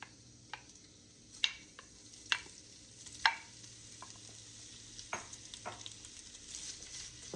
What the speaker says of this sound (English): The olive oil is warmed up. And I'm going to put in my sausage.